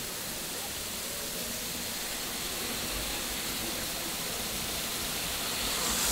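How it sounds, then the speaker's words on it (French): Kurşunlu waterfall near Antalya roars in a steady, dense wash of falling water. The rush is broad and unbroken and swells slightly toward the end. "La cascade elle est là."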